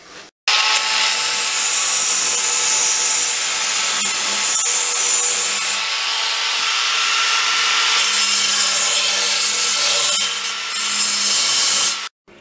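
A power tool cuts a hole in a wooden guitar body, a loud, continuous buzzing saw noise close by that runs for about eleven seconds with slight changes in pitch, ending abruptly.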